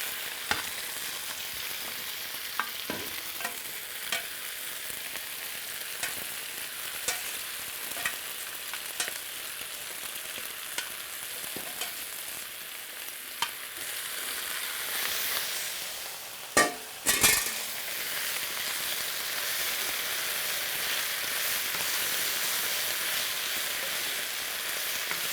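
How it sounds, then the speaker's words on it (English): Food frying in a frying pan on a home stove, a steady close hiss of sizzling with scattered pops and crackles, joined by a couple of brief sharp clatters before the sizzle carries on alone. "we'll add this to the frying pan"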